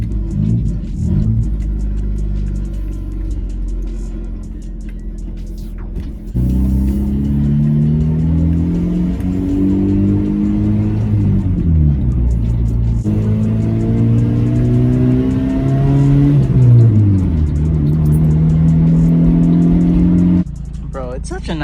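Loud engine of a Honda Civic with a newly fitted aftermarket exhaust, droning and rumbling as it revs up and down through rising and falling pitches over about twenty seconds, with a voice talking over it.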